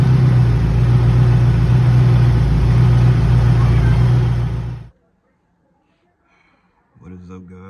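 A car engine revs loudly and steadily up close for about five seconds, then cuts out abruptly into near silence before faint sounds return.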